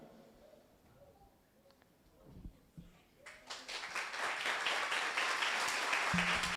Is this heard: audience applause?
yes